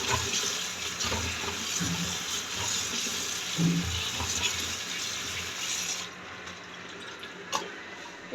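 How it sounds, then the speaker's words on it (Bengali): Tap water runs steadily into a sink over vegetables being washed for vegetable khichuri, a continuous close splashing hiss with small bumps of handling, then the flow eases near the end. "এখন আমি সবজিগুলো ধুয়ে নিচ্ছি"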